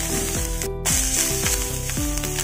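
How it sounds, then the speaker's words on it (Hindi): Curry leaves and sambar spices roasting in hot oil for a drumstick (sahjan) vegetable dish: a steady, loud sizzle and crackle that stays close, with stirring and a clatter of utensils. "वही तेल में हम भून रहे।"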